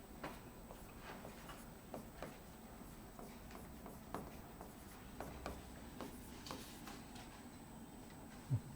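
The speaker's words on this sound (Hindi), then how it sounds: "क्वेश्चन हम लिख लेते हैं" Pen scratching a chemistry question onto paper, a quiet run of short strokes and light taps spread evenly over the span, faint and close with a low background hum.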